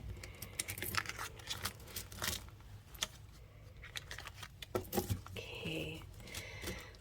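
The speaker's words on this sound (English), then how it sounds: "Let's give it some more shuffling." Tarot cards shuffled by hand, a run of crisp riffling and flicking bursts with brief pauses, fairly close and moderately quiet, with no one talking.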